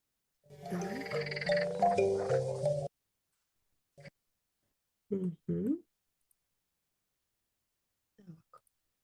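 An edible green frog gives a loud, close croaking burst lasting a couple of seconds. A few short, separate croaks follow after gaps of silence.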